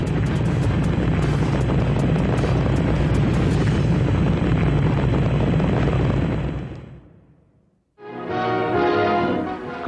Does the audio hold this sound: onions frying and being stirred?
no